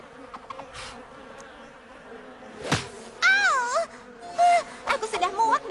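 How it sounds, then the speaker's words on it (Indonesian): Cartoon flies buzz in an episode of My Little Pony: Friendship Is Magic, with short whiny buzzing bursts in bouts alongside moaning, whimpering character voices. "Aku sudah muak dengan lalat mengerikan ini."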